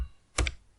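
A brief burst of keystrokes on a computer keyboard while entering a figure into an Excel spreadsheet, two quick close clicks in an otherwise quiet room.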